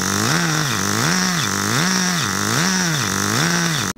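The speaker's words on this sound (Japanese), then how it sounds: "中古の古いエンジンカー、無事にエンジンかかりました" An old, used Kyosho Pure Ten GP Spider 4WD Mk.2 radio-controlled car runs its small glow engine. The loud, close, steady buzzing whine wavers up and down in a regular rhythm, then cuts off abruptly at the end.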